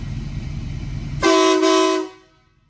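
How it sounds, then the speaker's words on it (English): A full train horn mounted on a lifted Ford F250 blasts once, loud and close, a sustained multi-tone chord lasting under a second before cutting off, preceded by a rumbling idle and followed by quiet. "has a full train horn"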